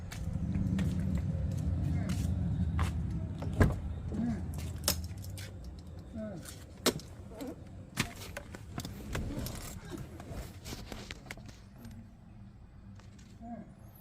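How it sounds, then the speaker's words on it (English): A Tata Nexon EV electric car door is opened up close: a series of sharp latch clicks and handling knocks over soft rustling, with keys jingling in between. "I'm opening the car door"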